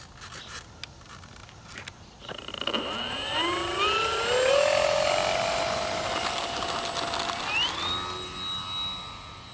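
An electric RC model Corsair F4U-4 warbird, a 1200mm HobbyKing plane, spools up for its maiden flight, its motor whine rising in pitch and holding loud and steady before climbing higher near the end.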